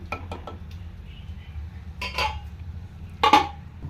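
A metal lid clinks down onto a pot of vegetable biryani, with a few light clatters and then a sharper, louder clink near the end against a low steady background hum.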